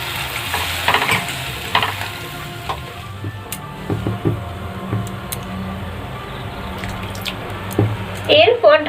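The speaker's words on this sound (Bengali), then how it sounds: "এরপর অল্প পরিমাণে জল দিয়ে ভালো করে মশলাটা কষিয়ে নেব।" Spice paste being sautéed with a little water while a spatula stirs it, for a Bengali fish curry with cauliflower; scraping and light sizzling sounds recur through the clip with a faint background hum, and a voice speaks briefly near the end.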